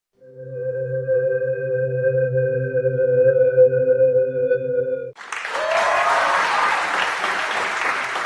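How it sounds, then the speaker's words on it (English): After a few seconds of sustained tonal music, a sustained wave of applause fills an assembly hall, a dense continuous clapping that holds steady to the end. "Irene Solis stepped away from the podium to a sustained wave of applause that rolled through the assembly hall like distant thunder"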